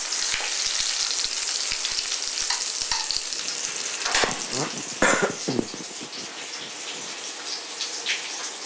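A seasoned chicken gigolette fries skin side down over medium heat in a restaurant kitchen pan, giving a loud, dense, close sizzle that runs continuously with a few crackles and spatters, no talk.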